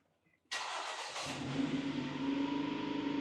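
A gasoline imported used car brought to life by push-button start: a quick starter whir, then the engine catching and settling into a steady, quiet idle, heard close and alone.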